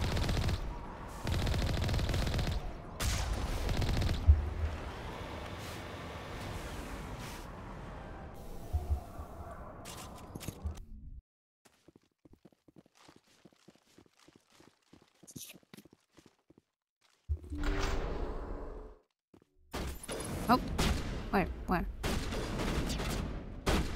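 Gunfire in Mass Effect 1, bursts of rapid shots that are loud at first and then come in sparse volleys, with people talking around the shooting.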